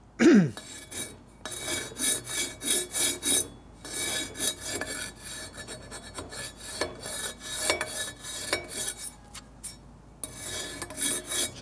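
A hand file rasps against a 1948 Harley-Davidson Panhead 74ci engine's metal in repeated back-and-forth strokes, close and fairly loud, with brief pauses between bursts.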